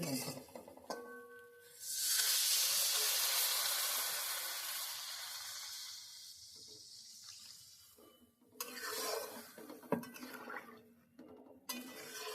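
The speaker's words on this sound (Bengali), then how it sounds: "এবার আমি পুরো জলটাই দিয়ে দিচ্ছি" Water poured into sizzling spices in a pan for a thin Bengali fish curry with potato, pointed gourd and green banana, a hissing splash that fades, followed by clinking of utensils while someone talks.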